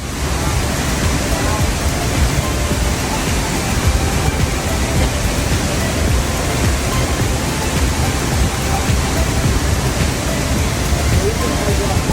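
A waterfall in the mountains, a loud, constant broadband roar of falling water heard up close, unbroken for the whole stretch.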